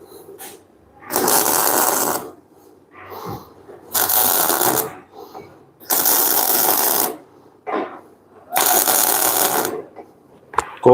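Tack welding joins a bolt and tube onto a base while fabricating a socket wrench for security lug nuts. Four harsh, crackling bursts, each about a second long, are separated by quiet pauses with faint handling clicks.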